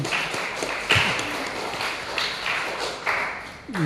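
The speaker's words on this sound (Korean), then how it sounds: "박수 한번 쳐주십시오" A church congregation at a Sunday service claps in welcome, a short burst of moderately loud, close clapping with a few distinct sharp claps and little talk.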